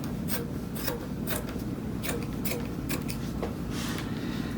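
Scissors snipping along a marked line through a piece of cloth for a patchwork, a series of short, close rasping cuts repeating in an uneven rhythm over a steady low hum.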